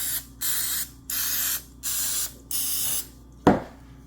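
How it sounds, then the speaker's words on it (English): Cooking spray applied to muffin tins in a kitchen, five steady hissing bursts of about half a second each with short gaps, followed by a sharp clatter as the can or pan is set down. "Now we're spraying our muffin tins."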